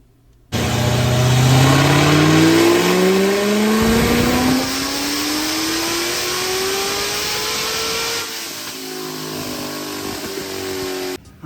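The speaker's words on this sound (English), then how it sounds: "So here goes the first actual power pull" A supercharged Corvette engine on a dyno, tuned to over 700 hp, revs hard through a loud pull with rising harmonics, then drops back to a steady idle-like drone near the end.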